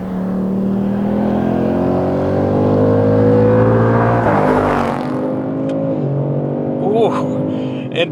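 The V8 of a Ford Mustang Dark Horse revs with a hard-edged wail, rising and falling in pitch through several sustained pulls, loud and close, with a brief blip near the end.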